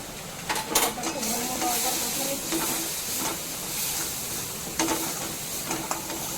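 Spices with turmeric and red chili powder sauté in a pan, giving a steady close sizzle and hiss broken by intermittent clicks and scrapes of stirring, with occasional faint sounds in the background.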